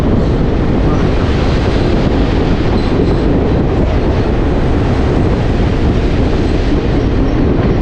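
The Haldibari Intercity Express train crosses the Farakka bridge, heard from on board as a loud, constant rumble of rolling wheels with wind roaring past and no gaps or voices.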